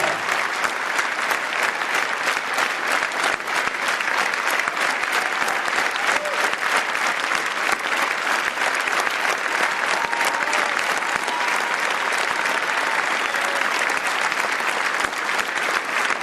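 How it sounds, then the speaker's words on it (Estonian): A crowd applauds at a charity concert for Ukraine in Estonia, sustained even clapping from many hands that runs unbroken, with faint voices barely audible beneath. "Aplaus meile."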